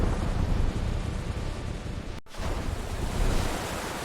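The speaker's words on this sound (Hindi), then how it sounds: "क्षण भैर में वर्षा शुरू भ गेल।" A rain sound effect plays as a steady, loud wash of broadband hiss, cut by a split-second dropout near the middle, then continuing unchanged with no voices.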